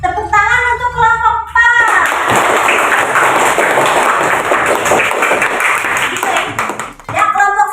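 A classroom bursts into dense, loud applause for a group after a presentation, with clapping lasting several seconds between bits of a voice before and after.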